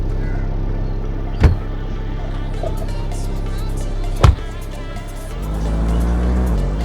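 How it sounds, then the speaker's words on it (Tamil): A video game car engine gives a steady low rumble throughout, broken by two sharp, loud knocks, with the engine tone rising slightly near the end. "அப்படியே ஒரிஜினல் கார் சவுண்டு மாதிரியே கேட்குது"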